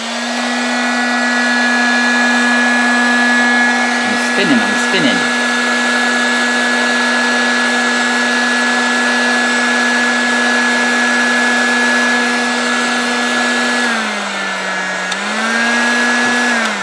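A heat gun blowing steadily on heat shrink tubing over wires, a loud continuous whine that holds its pitch, with a few clicks near the middle and a brief dip and recovery toward the end.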